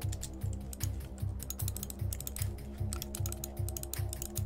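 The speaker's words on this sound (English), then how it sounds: "my mouse clicking away" Rapid computer mouse clicking while building in Minecraft, a quick steady run of close, light clicks over a regular low rhythmic hum, with no talking.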